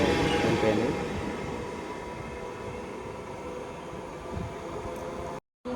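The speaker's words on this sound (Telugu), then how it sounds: "SMVT Bengaluru super fast express అయితే మా అయితే వెళ్ళిపోయింది" Steady rail rumble and hiss fill the scene as the SMVT Bengaluru Superfast Express departs a station, starting louder and settling into an even wash of noise, broken by a brief cut near the end.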